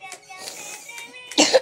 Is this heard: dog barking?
no